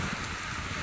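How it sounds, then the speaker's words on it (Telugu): Steady rain falls over farm fields during a thunderstorm, making a dense, even hiss that continues without a break. "ఇప్పుడు వర్షం పడతా."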